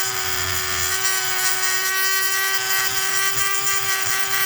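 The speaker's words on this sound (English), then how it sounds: "I'm going to sand this area here" Sandpaper worked by hand over a PVC bottle, giving a steady scratchy rasp that runs without a break for several seconds, close and fairly loud, with no talking.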